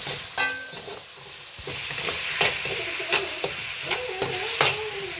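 Tomatoes being mashed and sautéed in a pan for beef sinigang, a continuous close sizzle with a run of rhythmic spatula scrapes and stirs and no voices.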